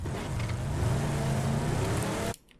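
A car engine drones steadily in the PUBG video game as the vehicle drives and drifts, a loud continuous motor hum that cuts off abruptly near the end.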